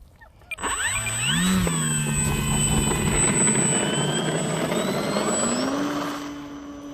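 Electric motor of an FMS Ranger 1800 RC plane on a 4S 3700 mAh battery, whining up to full throttle for takeoff, a loud steady buzz with rising pitch that later shifts higher.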